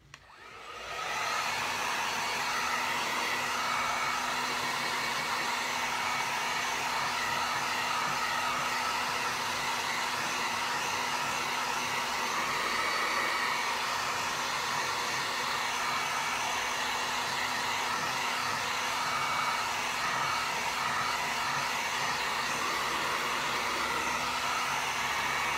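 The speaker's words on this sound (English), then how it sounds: "let's go ahead and just hit it with the hair dryer" A hair dryer blows steadily on fresh paint, a constant close whooshing hiss with a faint motor whine that switches on abruptly and runs without pause for about twenty-five seconds.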